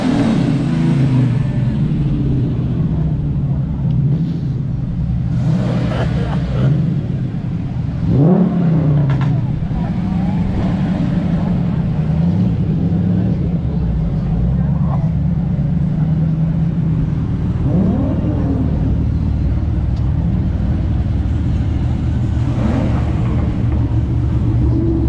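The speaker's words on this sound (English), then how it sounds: "oh my word, screeching." Fast cars rev and rumble through a busy Blackpool street, with a couple of rising engine sweeps passing close amid steady loud traffic noise and someone talking.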